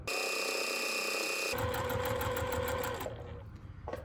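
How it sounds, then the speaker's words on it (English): A sewing machine runs steadily for about three seconds, stitching a foundation paper piecing seam on a quilt block after a brief hum, then winds down and stops near the end. "So we're going to pin this up and then sew it. And away we go."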